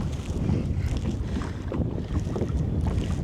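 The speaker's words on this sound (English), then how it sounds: "Oh, the wind is crazy." Strong gusting wind buffeting the microphone while trout fishing by water, a loud continuous low roar with surging rises and falls throughout, no voices.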